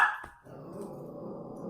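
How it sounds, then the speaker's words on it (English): A dog barks once or twice near the start, a short sharp burst indoors, followed by a steady low hum in the room with no talking. "what are you barking at?"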